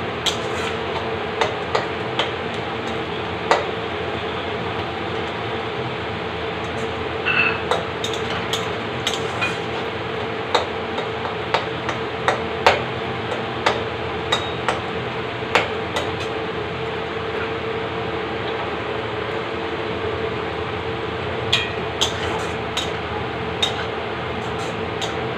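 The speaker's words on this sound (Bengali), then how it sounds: "পেঁয়াজ কিন্তু গোল্ডেন করে ভেজে নেব।" Chopped onions fry to golden in a pan, a steady close hiss broken by scattered crackles and pops throughout.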